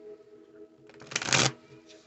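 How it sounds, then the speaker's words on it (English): A deck of tarot cards riffles in one brief, loud burst of shuffling after a quiet moment, with a low hum underneath. "let's shuffle this up a couple of good times."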